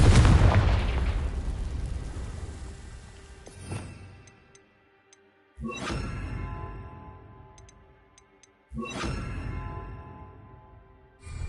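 Heavy fiery explosions from the Confringo blasting spell in Hogwarts Legacy come as three loud booms about every three seconds, each starting with a sharp burst and then a long, fading rumble with small crackles.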